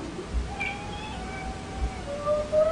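A cat meows in drawn-out, wavering cries, repeated several times, moderately close over a steady background hiss.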